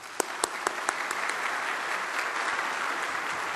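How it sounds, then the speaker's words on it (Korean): A church congregation claps to welcome a pastor, starting with a few loud, distinct claps that quickly merge into dense, sustained applause filling the hall, with no voices heard. "나오실 때 박수로 환영해 주시기 바랍니다"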